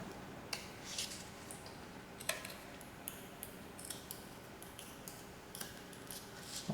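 Scissors trimming fabric for a crafting project give a series of quiet, crisp snips and clicks spaced irregularly across the clip, close but faint over a soft room background.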